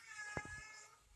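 Cat meowing indoors, a single short, faint meow rising and falling over a quiet background.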